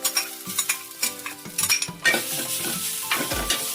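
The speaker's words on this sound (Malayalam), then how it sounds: "ഇനി ഇതിലോട്ട് ഈ തേങ്ങ ഒന്ന് ഇട്ട് കൊടുക്കാം" Crushed coconut is dropped into a hot pan for a prawn and tapioca dish, followed by a steady sizzle and repeated clinks and scrapes of a spoon stirring against the pan.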